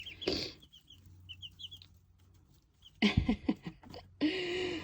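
Chickens in a backyard flock cluck and chirp in short bursts, with a few quick high peeps early on and louder, scratchy clucking flurries near the end, fairly close.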